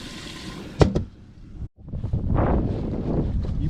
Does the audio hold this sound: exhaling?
no